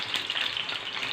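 Potatoes frying in hot oil, giving a steady, dense sizzle that holds at an even level throughout, close up and with no talking.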